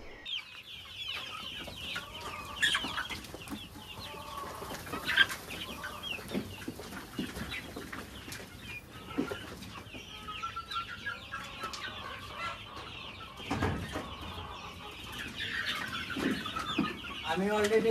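Farmyard chickens cluck continuously as they peck at freshly served homemade feed, a busy mix of nearby and more distant fowl calls with occasional louder squawks and faint voices in the background.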